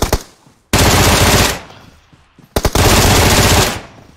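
Automatic gunfire in a video game: two long sustained bursts of loud rapid shots, each about a second long, separated by a short pause with a few isolated pops, no speech.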